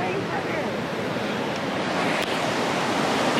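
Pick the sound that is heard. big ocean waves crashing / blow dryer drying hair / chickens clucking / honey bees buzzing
big ocean waves crashing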